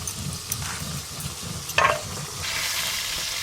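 Pond fish frying in a pan hisses and sizzles steadily at close range, broken by light stirring and scraping and one brief clink, with no voices.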